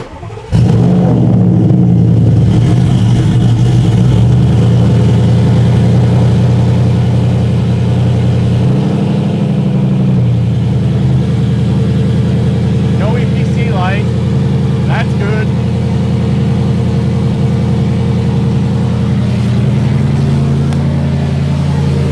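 An Audi S6 fitted with a ZF8 transmission swap starts up and settles into a loud, steady idle with occasional rises in engine pitch, close to the car.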